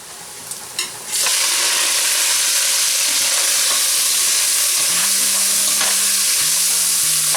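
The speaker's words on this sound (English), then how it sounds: "So I'll stir it well here till the time it's fried nice." A pound and a half of beef cubes for curry frying in a pot: loud, steady sizzle that bursts in after a few faint clinks and keeps going, with occasional scraping as the meat is stirred.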